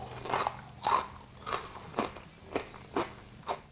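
Crispy pork crackling on roasted pork belly being bitten and chewed, a run of about eight sharp crunches at a steady pace, close and fairly quiet, with no talking.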